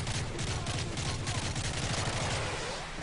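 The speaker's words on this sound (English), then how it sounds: "Okay, I'm not sure who I'm shooting at. I'm just shooting." Sustained rapid gunfire from Call of Duty Modern Warfare 3 campaign combat, dense overlapping bursts rattling continuously for a few seconds without speech.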